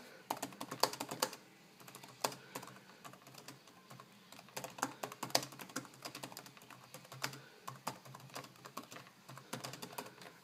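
Typing on a laptop keyboard, a steady run of quick, light key clicks with irregular rhythm and occasional louder taps, close and alone with no voices.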